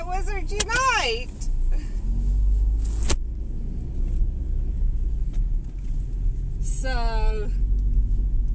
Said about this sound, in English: I am driving for a minute.